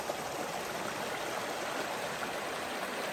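A clear stream flows steadily at a river trail crossing, a continuous close rush and babble of water with no break and no talking.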